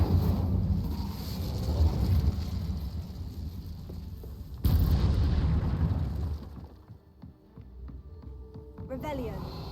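An Incendio fire spell cast in Hogwarts Legacy, a roaring, rumbling burst that swells suddenly and burns on before fading to quieter ambience with faint talk underneath.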